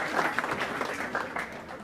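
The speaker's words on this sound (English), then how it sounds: "Let's have a round of applause for your parents." An audience at a scholar-athlete awards event claps for the students' parents, a short burst of moderately loud applause that fades slightly.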